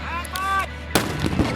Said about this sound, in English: And now we're getting to shoot